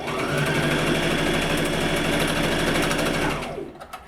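A sewing machine stitches fabric face mask straps in one long, steady, loud whir that runs for about three seconds before winding down and stopping.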